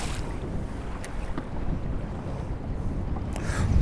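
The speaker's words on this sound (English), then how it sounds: "And yeah, but it got windy quick." Wind gusting on open water during walleye and perch fishing, a loud steady roar with rumbling buffeting against the microphone that swells toward the end.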